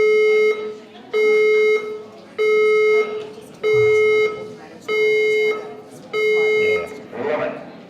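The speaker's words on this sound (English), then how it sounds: "Warning. The fire alarm system is operated." A fire alarm system sounds at a Science meets Parliament event: six loud, evenly spaced electronic tone bursts, each lasting just under a second, with short gaps between them.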